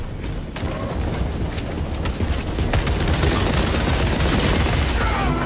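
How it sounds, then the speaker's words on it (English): A magazine swap and reload in Warhammer Space Marine 2: metallic clacks and ratcheting mechanism sounds close up, over a dense din of gunfire and battle noise. "Swapping magazines."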